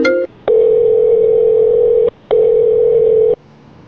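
A telephone rings for an incoming call with two long, loud electronic tones separated by a short gap, heard alone without any voices.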